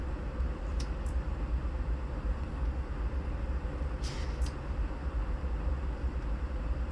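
A train engine idles at tick over in Train Simulator 2021 on the Miami to West Palm Beach line, a steady low rumble with a couple of brief hissing bursts on top.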